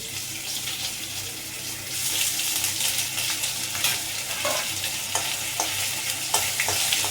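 Ginger paste and torn bay leaves fry in hot oil for a cauliflower mushroom curry, giving a close, constant crackling sizzle with intermittent clicks and scrapes of stirring throughout.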